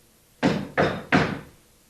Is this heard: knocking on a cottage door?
yes